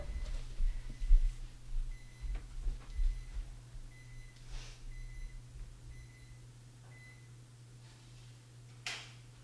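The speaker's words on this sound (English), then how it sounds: "My oven is beeping." An oven beeps repeatedly, short evenly spaced tones at moderate distance, over a low hum and a few knocks.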